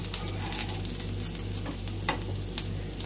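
Chicken shami kebabs shallow-frying in a pan give a steady, moderate sizzle with small crackles and pops scattered through it, heard alone.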